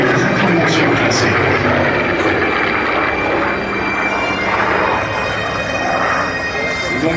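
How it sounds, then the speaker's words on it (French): A Vickers Supermarine Spitfire Mk XIV flies at an airshow, its engine a loud, steady drone that fills the whole stretch with a slight rise and fall as it passes. "c'est tout simplement celui que l'on voit évoluer aujourd'hui, le Vickers Supermarine Spitfire"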